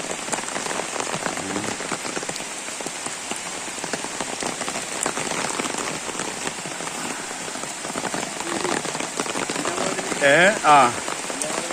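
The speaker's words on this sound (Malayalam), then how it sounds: "ശക്തമായ ഓലുവാണ് റോട്ടിൽ, ശക്തമായ ഓല്." Heavy rain sends a strong flow of water over a road in Kerala, making a dense, steady rushing roar. A voice speaks briefly near the end.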